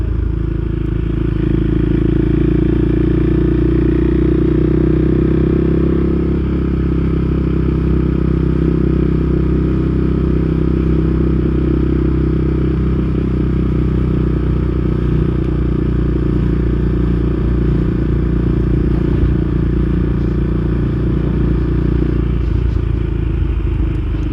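KTM 390 Duke single-cylinder motorcycle on Yorkshire roads, heard from the rider's position: a loud, steady engine drone with a deep low rumble, rising as the throttle opens, under constant wind noise and no talk.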